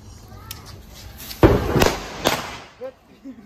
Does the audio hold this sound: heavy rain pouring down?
no